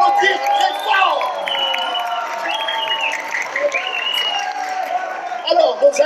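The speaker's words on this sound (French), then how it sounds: "Et là, on peut les applaudir très fort." A crowd at Comic Con Algérie 2018 claps and cheers, with whoops and high shouting voices rising over a busy background of applause, lively and fairly loud.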